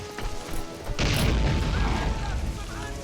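Booming artillery fire in the war game Men of War, with a sharp blast near the one-second mark followed by rumbling crashes and battlefield noise under faint talk.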